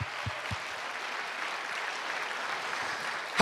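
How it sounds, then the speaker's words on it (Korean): Church congregation applauding during a Korean New Year revival service, a steady dense wash of clapping that holds evenly throughout without talk. "박수할 거 그럼 제대로 하세요."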